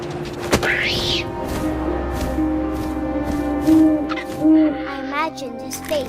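Owl hooting in the video game What Remains of Edith Finch, a clear close call followed by a few more drawn-out hoots over a low ambient drone, with narration alongside.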